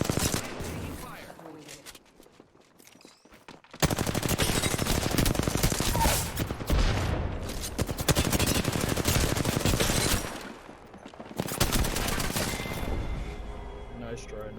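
Rapid automatic gunfire from Apex Legends crackles loud and sustained in long bursts, breaking off briefly and resuming, with occasional voices mixed under the shooting.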